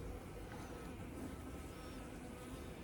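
Honey bees buzz continuously over open hive frames during a hive combining, a steady, full, close drone with no talking.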